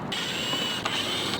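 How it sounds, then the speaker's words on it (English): Screws being removed from the top frame of a BMW E36 convertible: a steady close mechanical whir with a faint ratcheting, brief and continuous with a short click near the end. "you literally just take these screws off"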